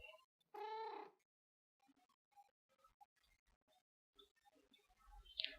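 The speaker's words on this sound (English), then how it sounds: "Yep, you're making lots of noise. I hear you, kitty." Cat meowing indoors, one drawn-out clear meow near the start followed by quieter scattered sounds and a person talking softly, with a brief faint chirp near the end.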